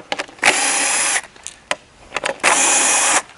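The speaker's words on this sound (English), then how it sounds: "I'm going to loosen up on this backbone since I'm standing here and my drill's in reverse" A power drill runs in reverse to loosen a conveyor backbone during assembly, with two loud sustained whirring bursts, each close to a second long, separated by brief clicks and handling noise.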